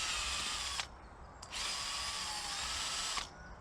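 A Dremel rotary tool whines at high speed outdoors in a garden plot, running steadily with two brief cut-offs before winding down near the end.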